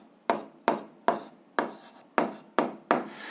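Seven sharp, evenly spaced strokes of a pen or chalk writing out an algebra answer, each a crisp scratchy tap with a short tail, close and alone with no talking.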